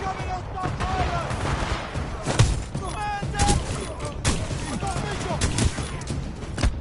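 Auto-loading shotgun fire in the game Titanfall 2 during a frontier defense match, repeated blasts in quick succession over a dense, continuous wash of combat noise and explosions with no pause.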